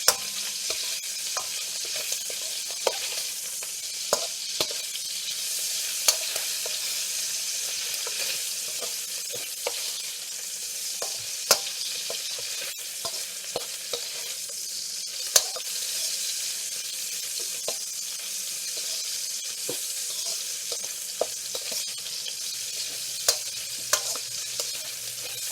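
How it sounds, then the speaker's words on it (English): Sausage sears in a hot pan with a continuous, close hiss of sizzling fat, punctuated by frequent scraping and clacking as a utensil keeps turning the pieces; no one speaks. "So you want a nice sear on both sides of your sausage"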